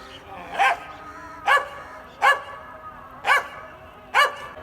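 A dog barks five times at a steady, evenly spaced rhythm, each bark sharp, loud and close, with a quiet background between barks.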